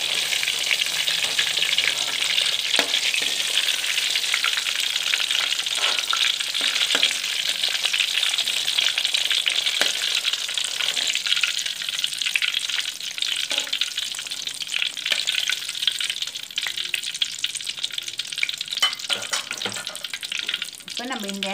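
Tofu pieces frying in oil for a Malaysian Indian style tofu sambal, a continuous bright crackling sizzle holding steady throughout with occasional faint clinks, no talking.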